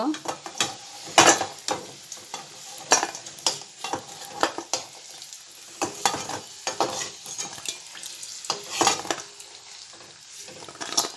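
Potatoes frying in oil in a wok on a home kitchen stove, with repeated scraping and stirring strokes over a steady low sizzle, close and moderately loud, with no talking.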